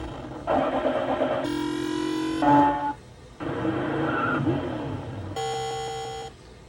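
Electronic arcade-style tones and buzzy synthesized effects from a Williams High Speed pinball machine sound test, in several separate bursts, loud and close, with brief pauses between them.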